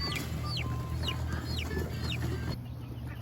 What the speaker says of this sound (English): Okay, Evan, you're gonna get your chickens in there?